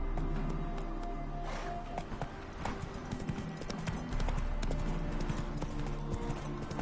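Roach, Geralt's horse in The Witcher 3, trots along with a steady, repeating clip-clop of hooves, fairly close and continuous under a dense layer of game ambience and music.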